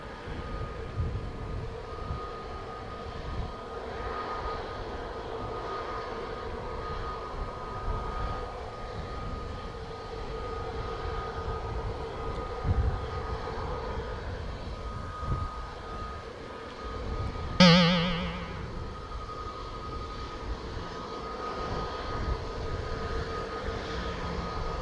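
American Airlines airliner on final at Montego Bay, Jamaica, going around after wind shear, heard as a distant steady jet rumble that swells near the end with a brief sharp burst over a continuous background roar.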